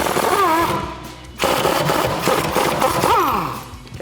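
A loud impact gun spins off the 21 mm nut on a sway bar end link of a 2008-2023 Dodge Challenger, its motor whining up in pitch with rattling hammer bursts, close and continuous.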